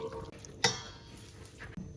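Sugar syrup drink stirred in a container, with soft swishing liquid motion and a single sharp clink of a utensil against the vessel partway through, quiet and close.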